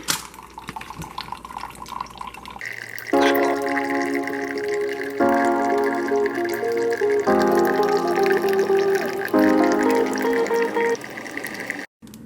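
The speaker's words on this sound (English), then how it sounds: "let's get this water in" Water pours steadily into a container, its tone rising as it fills, loud and close, with a few clinks at the start.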